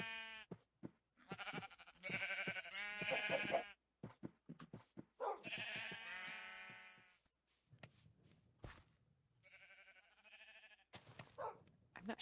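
Blocky Minecraft sheep bleat repeatedly nearby, several loud wavering baas in clusters separated by short pauses, with a faint lower sound between calls.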